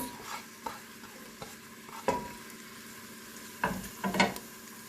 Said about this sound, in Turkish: Yağımız ısındı. Soğanlarımızı atıyoruz.